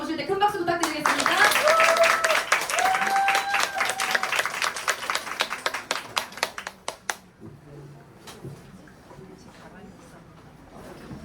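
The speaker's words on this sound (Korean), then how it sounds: "우리 박보람 사장님 모실 때 큰 박수 부탁드리겠습니다." An audience at a business seminar gives a speaker a loud round of applause as she is welcomed, dense clapping that thins into scattered claps and fades, with voices talking over it.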